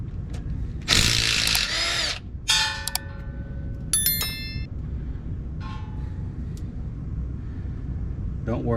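A power tool whirs in short bursts while bolts are removed from the underside of a 6th-generation Ford Bronco during a diff skid plate install, close and loud, with metallic clinks and ringing between bursts.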